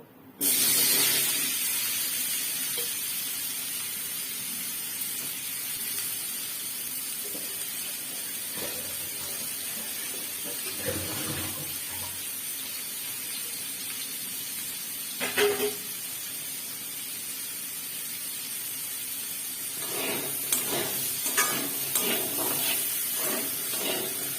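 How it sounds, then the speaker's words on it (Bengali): Partly steamed elephant foot yam fries in oil left over from frying potatoes, a steady hissing sizzle throughout with a louder burst at the start and occasional stirring rustles and knocks. "এই আলু ভাজা তেলেই আমি ওলটাকে ভেজে নেব"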